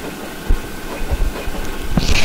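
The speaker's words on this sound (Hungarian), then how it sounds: "Na, már is utazunk a vonaton." Minecraft train ride: a steady rolling, rushing rumble with occasional low thumps, continuous and fairly loud throughout.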